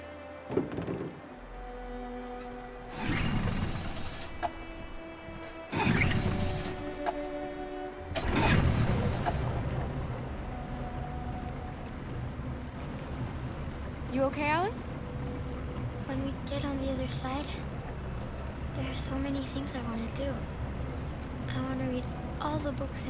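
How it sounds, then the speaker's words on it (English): A boat engine in the video game Detroit: Become Human cranks in several loud bursts, then catches and keeps running steadily under voices. "Let's get that engine going."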